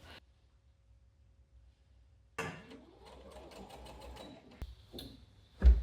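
A sewing machine stitches a pair of pyjamas, running in a steady rapid burst after a quiet stretch, close and clear, then stopping with a brief clunk at the end.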